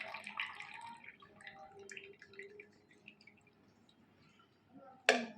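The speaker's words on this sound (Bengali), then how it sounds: "চয়নিকা চা ঢালছে নতুন কাপে, কাপগুলো মেলা থেকে আনা হয়েছে" Tea trickles and drips into new cups bought at a fair, a soft, close liquid pour with light splashing, ending in a sharp clink of a cup.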